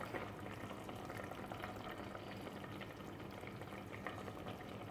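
Kerala-style fish molee bubbles in a pan on the stove, a soft, continuous simmering crackle and fizz, faint and even throughout with no voices.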